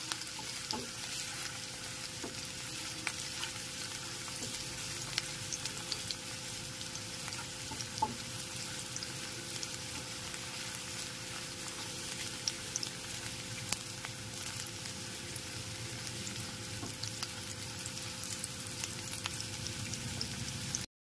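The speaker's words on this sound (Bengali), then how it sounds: "পেঁয়াজের টুকরোগুলো দেওয়ার পর গ্যাসের ফ্লেমটা লো টু মিডিয়ামে রেখে পেঁয়াজটাকে হালকা করে ভেজে নেব।" Chopped onions frying in a pan over a low-to-medium gas flame give a soft, even sizzling hiss with faint occasional pops, steady for the whole stretch.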